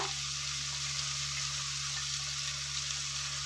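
Mint leaves and coriander sauté in hot oil for chicken biryani, a faint, steady frying hiss heard alone against a constant low electrical hum.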